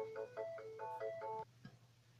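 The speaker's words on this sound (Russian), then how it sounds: "Телефон перебил мою речь." A telephone rings indoors with a repeating electronic melody, several quick tonal bursts in a row over a low hum, then stops abruptly.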